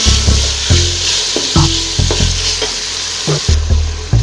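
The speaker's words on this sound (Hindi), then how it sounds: "2 से 3 मिनट के लिए हमें इसी तरीके से इस दाल को फ्राई कर लेना है।" Dal sizzling loudly as it is stirred and fried in a pan for a chana and moong dal recipe, with repeated scraping strokes of the spoon over a steady close frying hiss.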